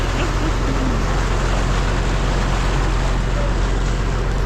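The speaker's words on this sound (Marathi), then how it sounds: "निघाली बोट आता." A motorboat heading out to Padmadurg sea fort produces a steady, loud engine drone and wash of water that holds evenly throughout, with faint voices beneath.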